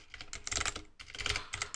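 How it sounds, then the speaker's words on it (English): Rapid, fairly quiet clicking of keys on a computer keyboard, typed in two quick bursts separated by a brief pause. "My keyboard."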